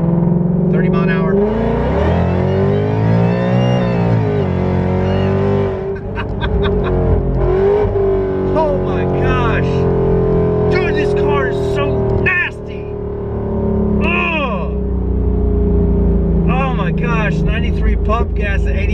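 A Ford Mustang fitted with a modified VMP Odin supercharger screams under hard acceleration, its loud rising whine climbing in pitch alongside the engine roar, easing off briefly and then building again through repeated pulls.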